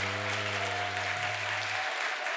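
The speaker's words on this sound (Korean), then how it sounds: "진심으로 사랑의 마음을 담고 환영의 마음으로 힘차게 박수." A church congregation at a Sunday service claps to welcome a newly registered family, a steady wash of applause with a held organ or keyboard tone fading out beneath it.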